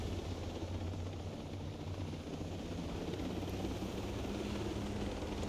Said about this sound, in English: Oh, those are drones.